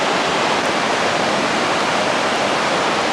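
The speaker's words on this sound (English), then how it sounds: "you can see how fast, just rapidly it's flowing there" Floodwater rushing fast past a narrowboat moored on a flooded waterway, a steady broadband roar of churning water, loud and continuous with no voices.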